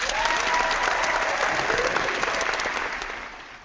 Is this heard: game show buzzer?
no